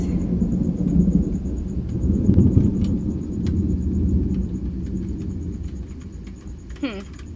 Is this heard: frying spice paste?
no